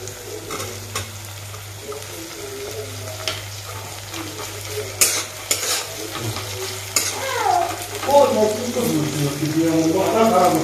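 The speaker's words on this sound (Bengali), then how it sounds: "ভালো করে ভাজা হয়ে গেছে আদা রসুনের পেস্ট দিয়ে" Ginger-garlic paste and tomatoes sizzle in a pan while a spoon scrapes and stirs, with sharp clatters midway and a voice speaking over the frying toward the end.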